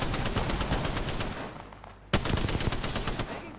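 Rapid bursts of video game gunfire crackle loudly and continuously, briefly dropping away before one sharp shot and a renewed burst of firing.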